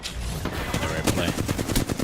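Rapid automatic gunfire from the Overwatch video game, a fast steady rattle of shots with near-continuous rhythm, loud and dense with some voice mixed in.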